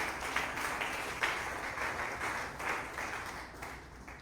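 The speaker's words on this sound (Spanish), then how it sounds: "Unas buenas palmas al Señor con todo el corazón." A church congregation claps along through a sermon, steady rhythmic palms filling the room at moderate loudness, with no voice over the applause.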